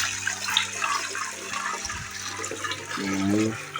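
Palm nut soup mixture sieved with water in a Ghanaian home kitchen, a steady close rush and splash of liquid pouring through, continuous and fairly loud.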